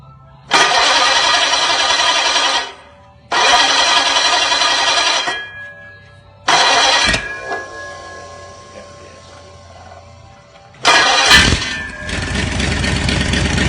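A 1934 Ford 59AB flathead V-8 mounted on an engine stand is cranked through several loud bursts, catching briefly each time, with a few voices talking in the pauses between attempts.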